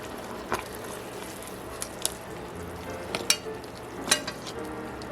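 A pot roast from a 1955 recipe sizzles steadily in its pot while being flipped, with a constant frying hiss broken by a few sharp clinks and scrapes of the utensil against the pot, close by.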